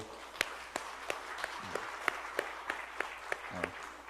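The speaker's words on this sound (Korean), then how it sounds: "박수로" A church congregation claps during a Sunday service, with distinct, fairly faint claps landing in a regular rhythm over a low hum, and brief voice sounds in between.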